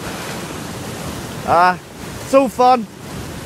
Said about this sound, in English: the waves are quite dramatic